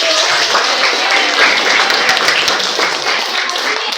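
A classroom full of students claps together, loud close-up applause during a teaching session, with individual sharp claps standing out in a brief dense burst that stays even for a few seconds.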